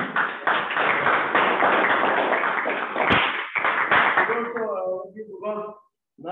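Online Toastmasters club meeting audience applauding, a dense sustained wash of clapping that stays loud for several seconds before thinning into scattered claps and trailing off, with voices mixed in near the end.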